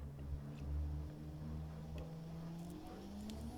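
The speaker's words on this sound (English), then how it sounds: "Suddenly you hear the rumble of a working engine" A working car engine drawing closer across an empty valley in the post-apocalyptic game Encased, a low steady rumble with a slight hum that holds at a faint level throughout and has no voice over it.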